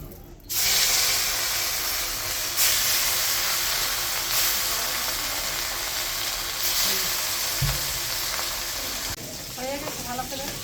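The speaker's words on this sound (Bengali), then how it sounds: "গরমে গরমে গেছে তেল দিয়ে দিচ্ছি এখন মাছগুলো দিয়ে দিচ্ছি" Rohu fish pieces sizzle steadily in hot oil in a wok over an outdoor clay stove, a loud continuous frying hiss that swells as the fish goes in, with a brief low thump near the end.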